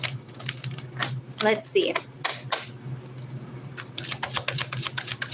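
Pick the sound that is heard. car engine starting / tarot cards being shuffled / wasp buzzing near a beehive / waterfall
tarot cards being shuffled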